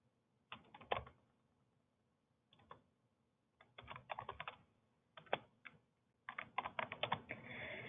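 Password being typed on a computer keyboard, quiet irregular bursts of key clicks with short pauses between, close and alone without talk.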